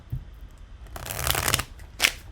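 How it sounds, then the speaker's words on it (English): A deck of playing cards is shuffled in a few quick riffling bursts, close and moderately loud, with a short pause between the longer shuffle and a final sharp snap of cards. "we're just going to put one more shuffle on these."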